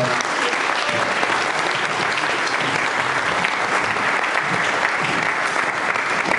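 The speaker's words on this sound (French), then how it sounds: "On acclame Jésus" A church congregation applauds in a steady, loud burst of clapping from many hands, continuing evenly throughout with a crowd murmur underneath.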